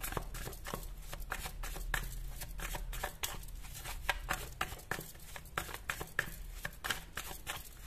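Tarot cards shuffled by hand in a steady run of crisp riffling bursts, close and fairly quiet, with no talking over them.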